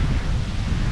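A cold, windy day at a Championsgate, Florida rental, with a brief, steady rush of wind buffeting the microphone and a low rumble.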